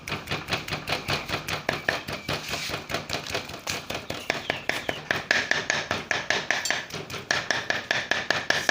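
Rapid, steady knife chopping of beef for laab on a board, close and loud, with evenly spaced blows continuing the whole time.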